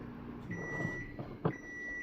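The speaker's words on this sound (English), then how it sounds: "I'll microwave this one just for 30 seconds." A microwave oven heating food in a home kitchen gives off a steady low hum with a thin constant whine, broken by a brief clunk partway through.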